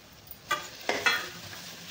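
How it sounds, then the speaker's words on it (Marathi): Potatoes and peas sautéing in spices with turmeric, with a low sizzle broken by two or three quick stirring scrapes nearby. "यातच लगे आपल्याला बटाटा आणि वाटाणा टाकून घ्यायचे"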